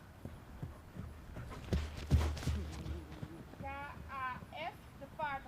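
A horse's hooves clip-clop in a steady walking rhythm during a dressage test, moderately close, while a voice calls out the test movements and a few brief whistled chirps sound near the end.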